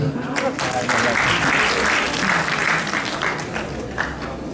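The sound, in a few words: applause for maestro Cheikh Tidiane Seck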